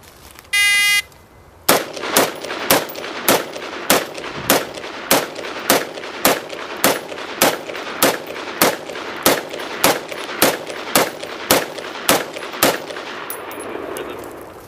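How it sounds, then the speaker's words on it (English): Rapid AR-15 rifle fire emptying one 20-round magazine in a timed drill, a short electronic start beep followed by about twenty loud, sharp shots at a steady quick rhythm, each with a brief ringing decay, with no talking. "demonstrate our next drill shooting an AR-15 with 1 20-round magazine"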